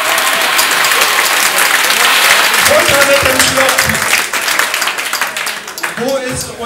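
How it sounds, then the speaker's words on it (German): Audience applause at a live cabaret-style show, broad dense clapping from a crowd at close range, with a voice talking over it and the clapping thinning toward the end. "Nochmal ein Applaus für alle"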